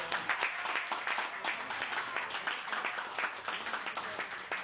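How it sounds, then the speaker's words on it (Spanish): An audience claps for Arturo at a community social gathering, a steady, dense patter of many hands that holds at moderate volume throughout without any voices. "Le ofrecemos de nuevo un fuerte aplauso a Arturo"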